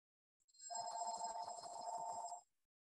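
A telephone rings once in a bright, continuous electronic trill of about two seconds, clear and close, with nothing else around it.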